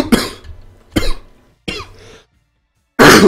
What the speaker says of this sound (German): Weil ich husten musste.